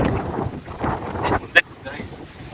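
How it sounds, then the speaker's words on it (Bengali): Strong storm wind in Sirajganj, Bangladesh, buffets the microphone in heavy low gusts, with a sharp click partway through. "এত পরিমাণ বাতাস যে আমার এটা যাওয়া মুশকিল হচ্ছে"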